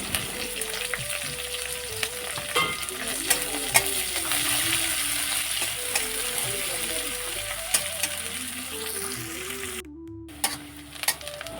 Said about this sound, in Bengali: আমার রসুনটা লালচি করে ভেজে নেওয়া হয়ে গেছে, এখন আমি কুচু করে নেওয়া পেঁয়াজটাও দিয়ে দিচ্ছি